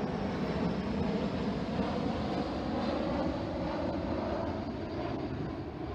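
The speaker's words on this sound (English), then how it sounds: "I'm going to let this plane go over." A plane passes overhead as it comes in to land, a steady broad roar of jet or engine noise holding at an even, fairly loud level throughout, with no voices.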